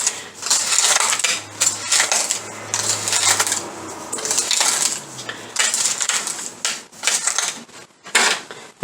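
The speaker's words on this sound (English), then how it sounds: "Then you're smart enough to pull out your whisk. Mix it nicely together." A whisk beats an apple turnover mixture in a bowl, producing bursts of rapid metallic clinking and scraping against the bowl with short pauses between strokes.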